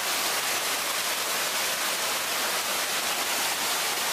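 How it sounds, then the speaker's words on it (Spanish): An underground waterfall and river inside a cave, a dense, even roar of rushing water that stays loud and constant with no breaks. "les comparto mi ingreso a una cascada subterránea caminando sobre un río subterráneo"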